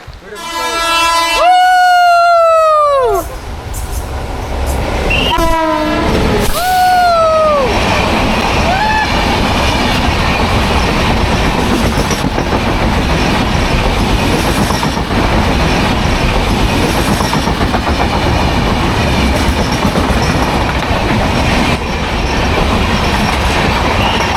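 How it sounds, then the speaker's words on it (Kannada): A loud train emerging from a tunnel rumbles past close by, wheels squealing sharply at first, then a steady clattering roar that continues throughout. "ಈಗ ಟನಲ್ನಿಂದ ಟ್ರೈನ್ ಹೋಗೋದು ನೋಡಿದ್ರಲ್ಲ"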